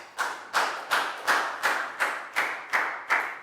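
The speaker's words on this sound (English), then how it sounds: "High five and a big round of applause for Pat, guys." A classroom gives about nine sharp, evenly spaced claps in a steady rhythmic beat, close and clear, with no talking over them.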